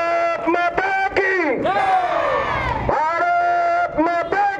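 At a memorial gathering, a crowd shouts a slogan response in unison, loud and ringing, with a long drawn-out collective cry in the middle framed by shorter chanted bursts.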